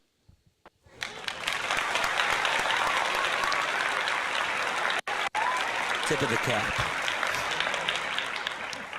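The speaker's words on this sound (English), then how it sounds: "Round of applause for RG, by the way." A crowd's applause swells quickly into a broad, sustained roar that holds for several seconds and briefly drops out midway, with a voice speaking over it toward the end.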